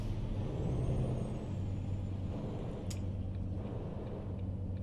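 Air brakes on a heavy truck in the American Truck Simulator game give a brief sharp hiss amid a steady low engine and road drone, faint and without speech.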